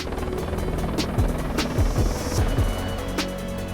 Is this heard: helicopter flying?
yes